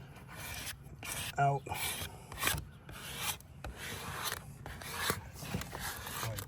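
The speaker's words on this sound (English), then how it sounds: "Take your squeegee and work the numbers down," A squeegee works vinyl number decals down onto a pickup truck's sliding glass window, giving repeated short rubbing, rasping strokes up close while a voice speaks briefly.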